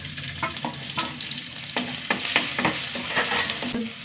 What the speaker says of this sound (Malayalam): ഒരു ആറേഴ് ചെറിയ ഉള്ളി ചതച്ചത് ഒരു ടീസ്പൂൺ ഇഞ്ചി വെളുത്തുള്ളി ചതച്ചത് ഇട്ടാം